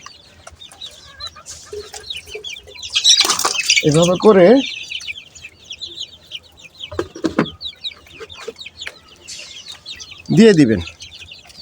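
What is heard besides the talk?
chickens clucking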